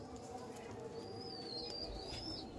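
Laldom pigeons coo low and steady in a loft amid background noise, with a faint high chirp drifting across and a voice in the distance.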